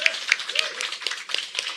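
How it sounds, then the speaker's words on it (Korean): Scattered claps from a small audience at a mayor's press conference, a handful of distinct hand strikes spread thinly over a brief stretch, fairly quiet. "박수 부탁드립니다."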